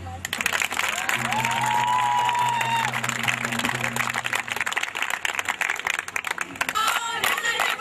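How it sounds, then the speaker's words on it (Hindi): Audience applause and some cheering for college street play teams at Miranda House, sustained crowd clapping with brief voices and a tonal sound riding over it. "उन सभी के लिए तालियां।"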